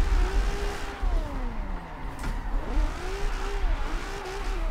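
A rear-wheel or all-wheel drive car drifting sideways in Forza Horizon 4, its engine revving and rising in pitch over rough bumps, loud and continuous, with no talking.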